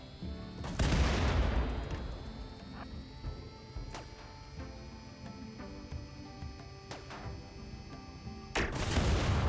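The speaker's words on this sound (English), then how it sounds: "We are just baiting this thing into firing its Diabolus cannon." Two heavy booming blasts from a Diabolus cannon in the game RimWorld, one near the start and one at the end, with a sharp crack in between and a steady mechanical hum throughout.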